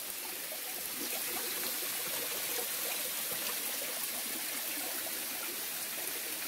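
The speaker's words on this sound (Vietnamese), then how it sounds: "chỗ trước mặt mình là một cái thác mọi người. Đây này. Thác cao lắm." A rainforest waterfall and stream rush steadily and continuously at close range, a dense, even wash of flowing water with no voices.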